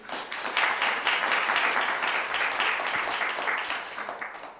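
A live studio audience of hundreds breaks into applause, a dense wash of clapping that swells quickly, holds steady, then tapers off at the end.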